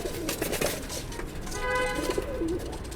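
Pigeons kept by a breeder in his loft, a pair of green-white female and khaki male birds among them, coo softly in soft repeated low calls over a dense background of fluttering and shuffling, with no talk.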